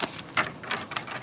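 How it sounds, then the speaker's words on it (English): Tarot cards are shuffled on a table in a few quick riffling bursts, soft papery flutters close by and fairly faint. "Let me just shuffle it up really good."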